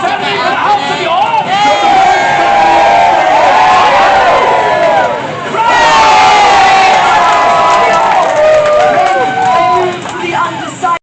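A large crowd of adults and children at a Wars of the Roses show at Warwick Castle cheers and shouts loudly and continuously, swelling in two long waves.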